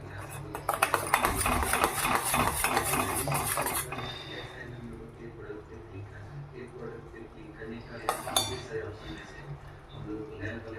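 Jaggery syrup stirred in a metal pan, a busy clatter of utensil scraping and clinking against the pan that thins out after a few seconds, then one more burst of clinks.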